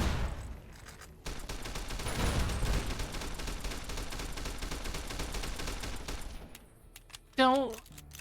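Rapid gunfire in the video game Fallout: New Vegas rattles on in a sustained, loud burst, followed by a short spoken exclamation near the end.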